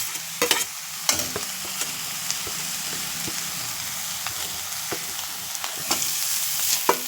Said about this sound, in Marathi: मस्त परतून घ्यायचं तर आणि आता पनीर टाकून घ्यायचं